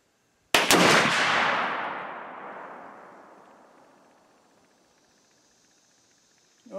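A Winchester X-150 muzzleloader fires a single 80-grain load outdoors: one sharp, very loud blast whose rumbling echo fades slowly over several seconds into quiet.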